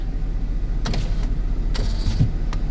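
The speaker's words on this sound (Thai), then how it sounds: "กระจกนะครับ กระจกไฟฟ้านะ" A Ford Ranger pickup's electric window motor whirs in short bursts over a steady low engine idle, heard up close inside the cab.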